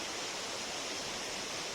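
A waterfall and stream in Nepal send water pouring downhill in a constant, even hiss of rushing flow, fairly soft and unbroken, with no voices over it.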